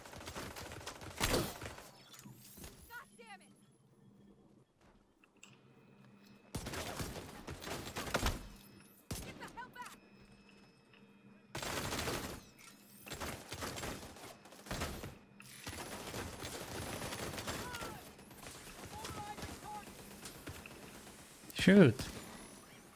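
Gunfire from The Division 2 comes in repeated loud automatic bursts separated by short pauses, with mechanical clanks and game effects between them, while someone talks over the action.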